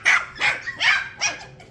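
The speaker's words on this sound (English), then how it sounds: "You got this big old puppy jumping on you." A big nine-week-old puppy, nearly as large as its mother, barks four times in quick succession, up close and loud, with short gaps between barks.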